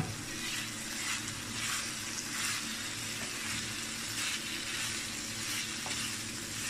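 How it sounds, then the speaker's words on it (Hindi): Chicken frying in a pan for a thin-crust chicken pizza topping, a steady close sizzle with soft stirring and crackling throughout, no talk. "तीन से चार मिनट तक इसे फ्राई कर लेते हैं।"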